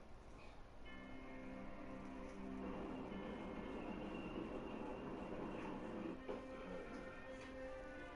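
An armored train in an Attack on Titan video game rumbles along with metallic clanks and ringing tones over a steady background, moderately loud, with no voices.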